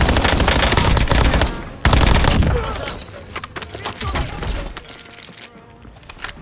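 Loud, dense automatic gunfire from a video game rattles in rapid bursts, then breaks into scattered shots and impacts that fade toward the end.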